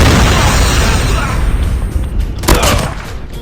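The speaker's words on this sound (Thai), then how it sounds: "รถระเบิด" A loud car explosion in a Call of Duty Mobile match bursts out amid constant heavy game noise and gunfire, a sharp blast rising over the dense rumbling mix.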